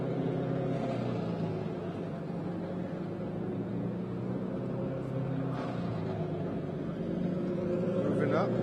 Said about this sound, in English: Kind of hear these guys tuning engines around here.